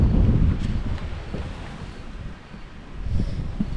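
Low, steady wind buffets the microphone beside a chairlift shelter in the Jordanne valley, Cantal, a rough rumble that swells and eases, with a faint hint of water in the background.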